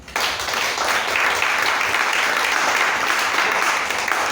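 A church congregation applauds at a service, steady dense clapping filling the room throughout with no talk.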